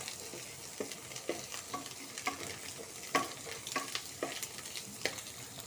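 Egg frying in a pan for noodles: a steady low sizzle with repeated light scraping strokes as it is stirred, close but quiet, and nobody speaks.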